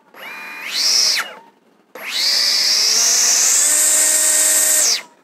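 An AEG/Ridgid 18V cordless cut-off tool whines up in two runs: a short burst that spins down, a brief pause, then a longer steady high-pitched run until the trigger is released and it stops.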